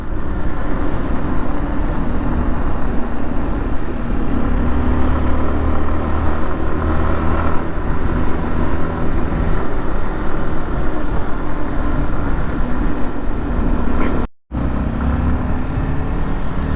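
A Honda car rolls along a downhill road in traffic, its loud, steady engine and road rumble filling the cabin continuously, broken only by a brief dropout near the end.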